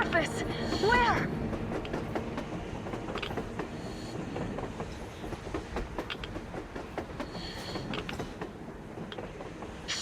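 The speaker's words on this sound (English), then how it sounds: "A train! A damn train on the surface!" A train rolls past in the post-apocalyptic shooter Metro Exodus, a steady rumble with creaks and rattling wagon clatter running throughout, while in-game characters' voices sit over it.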